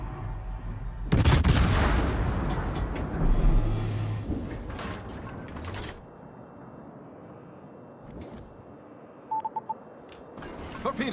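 Warship guns fire in World of Warships, a loud booming salvo with rumbling echoes, then further scattered shots and short electronic beeps as the noise fades.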